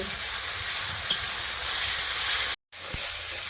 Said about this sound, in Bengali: পেঁয়াজ আদা রসুন টমেটো ভালো করে কষিয়ে নিচ্ছি